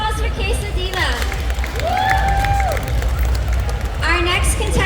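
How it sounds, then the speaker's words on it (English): Crowd applause and cheering for a pinup pageant contestant at a tattoo expo roars steadily throughout, with whoops and shouts rising above the clapping and voices mixed in. "That was a round of applause for Quesa Diva"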